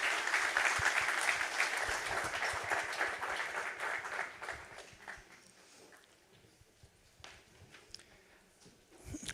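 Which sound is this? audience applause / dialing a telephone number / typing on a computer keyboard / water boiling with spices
audience applause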